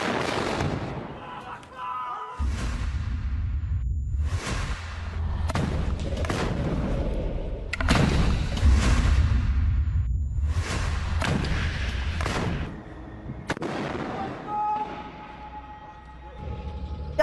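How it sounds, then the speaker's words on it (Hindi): Rocket strikes on an Israeli tank: a series of heavy booms and blasts, each a loud broadband burst with a low rumbling tail, repeating irregularly across the span with no talk. "इजरायली टैंक पर तेज रफ्तार रॉकेट अटैक की तस्वीरें, ये देखिए, ये टैंक और उसके बाद तस्वीरें।"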